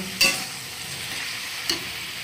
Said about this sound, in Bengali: দিয়ে খুব ভালো করে এটাকে নাড়াচাড়া করে কষিয়ে নেব